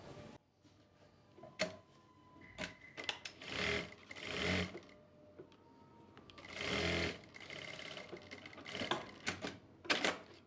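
A sewing machine stitches trouser pocket fabric up close, with quiet ticking between two rapid, whirring runs of stitching and a few sharp mechanical clicks.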